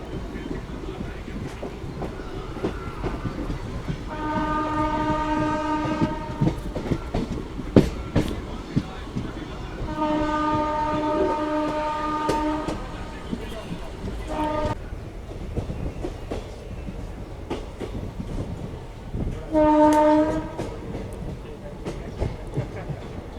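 A local passenger train pulling into Gondal railway station, its horn sounding in several long blasts over the rumble and clatter of rolling wagons, with crowd noise and voices around.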